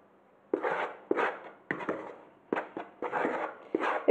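Chocolate cake batter being mixed by hand in a bowl, a run of short scraping, knocking strokes in uneven bursts, close and fairly loud with no talk over them.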